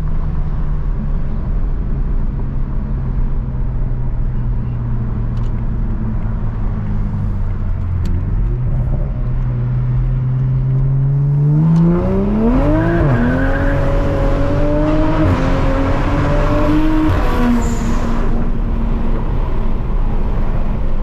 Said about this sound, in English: We're gonna kind of give it some gas here, get onto the highway.